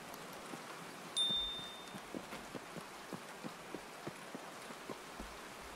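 Rain in Escape From Tarkov heard through a Comtac headset, a soft steady patter with scattered sharper drops ticking at irregular intervals, faint and even with a brief louder rustle early on.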